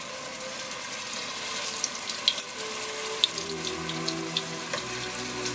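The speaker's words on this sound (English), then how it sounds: "And you want to give them a fry." Meatballs drop into hot oil in a soup pot over a medium-high flame and fry with a steady, dense sizzling hiss, flecked with occasional sharp pops and crackles throughout.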